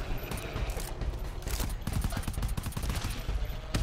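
Gunfire in the co-op video game GTFO, a rapid irregular volley of sharp shots and clacks, moderately loud over dense game noise.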